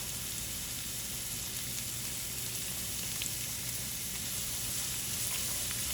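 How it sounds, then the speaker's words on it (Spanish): Chopped onion and garlic frying in a hot pan for a meat pie, giving a steady, close crackling sizzle that holds evenly throughout with no talking. "Y vamos a cocinar hasta que quede transparente la cebolla."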